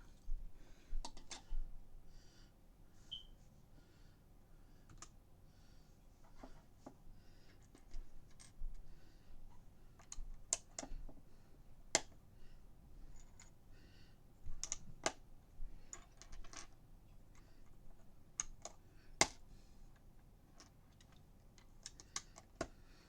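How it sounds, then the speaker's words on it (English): Small plastic Lego pieces from a Beatles Yellow Submarine set snap and click together in quick, irregular bursts, fairly close and sharp against a quiet room. "These pieces are clicking way louder than Lego pieces normally click"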